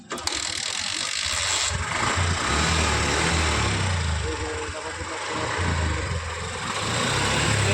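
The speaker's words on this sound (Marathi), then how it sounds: "किक मारल्यानंतर स्टार्ट होते गाडी." A Honda Livo BS6 motorcycle with a failed self-start and dead display runs after being kick-started, making a steady close engine rumble with rattling mechanical ticking, and a voice talks over it.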